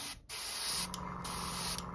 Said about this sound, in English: just give it a little spray on this test coat.